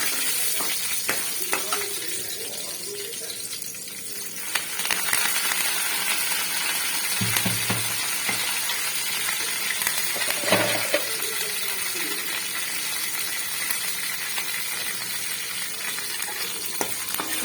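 Tempering seeds and garlic fry in hot oil in a pan for a ridge gourd curry, giving a steady close sizzle with occasional stirring clinks throughout.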